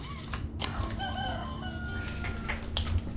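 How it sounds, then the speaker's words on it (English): A rooster crows inside the horror video game Poppy Playtime Chapter 3. The drawn-out calls ring clearly over a low, steady game ambience, with no speech. "Rooster, rooster, cock-a-doodle-doo"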